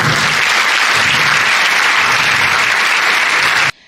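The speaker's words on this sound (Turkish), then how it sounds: "Alkış lütfen." Steady, dense applause from an audience at an event where a robot host appeared, loud and continuous for nearly four seconds before stopping abruptly.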